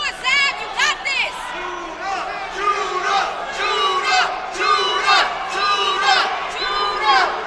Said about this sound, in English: And you hear a chant of Judah